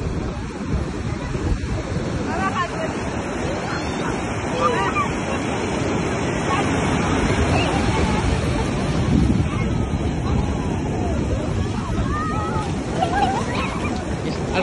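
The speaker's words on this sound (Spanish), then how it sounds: "Al parecer está bravo el mar, muy muy bravo." Rough, heavy sea surf pounds the beach at Champerico, Guatemala as a continuous loud roar, with strong wind buffeting the microphone and faint distant voices mixed in.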